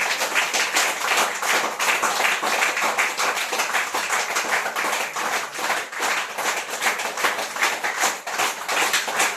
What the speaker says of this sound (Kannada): ಕಡಿಮೆ ಚಲೋ ಅನಿಸಿದ್ರೆ ಕಡಿಮೆ ಜೋರ ಚಪ್ಪಾಳೆ ತಟ್ಟಬೇಕು.